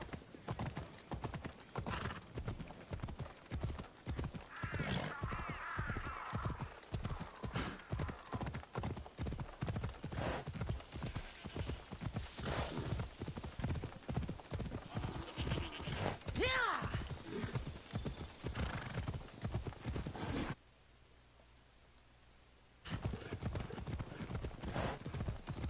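Horse hooves clip-clop at a steady walking rhythm in the game Assassin's Creed Odyssey, loud and close, with occasional whinnies and a brief silent gap near the end.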